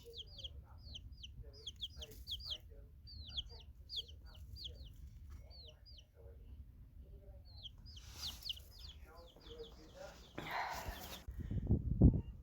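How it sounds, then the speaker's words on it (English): A young rooster with fluffy feet clucks in short, chirpy bursts, close and fairly soft, while a person speaks quietly nearby, ending in some louder handling noise. "I think you're a rooster, little one."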